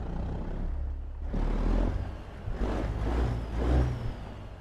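A truck engine in American Truck Simulator rumbles low and steady, swelling in a few surges like gentle revving with a hiss of air, alone without speech.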